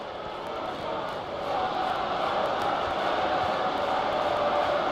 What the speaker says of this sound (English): I think even the opposition are applauding that one